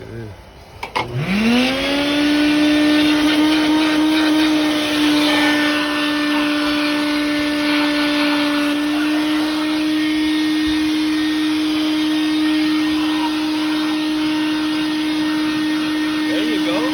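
Air compressor starting up and running in a workshop during engine work on a 2007 Dodge Charger, kicking in sharply and then holding a loud, steady, tonal motor whine for the rest of the stretch.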